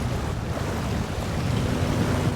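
A truck in SnowRunner pushes through river water, giving a steady, full-bodied rush and churn of water with a low engine rumble underneath, continuous and fairly loud throughout, with no talking.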